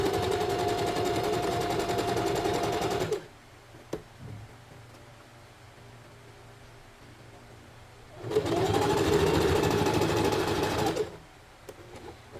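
A sewing machine stitches elastic onto a lace bralette in two steady, rapid runs of about three seconds each, separated by a quiet pause with a few faint clicks.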